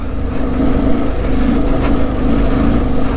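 Aprilia Tuareg 660 motorcycle ridden on a Yorkshire Dales trail, its engine a steady loud low drone close by, holding fairly even throttle for a few seconds with wind rush over the top.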